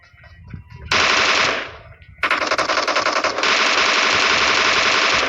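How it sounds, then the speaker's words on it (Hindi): Automatic gunfire in the mobile shooter game PUBG Mobile, loud rapid bursts: one sustained burst fading out, a brief pause, then a long unbroken stream of fire to the end. "यहाँ पे मैंने जितना प्री फायर दिया"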